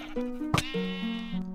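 Sheep bleating in Minecraft's Wynncraft server, a couple of close, clear wavering baas with a brief click between them, heard alone.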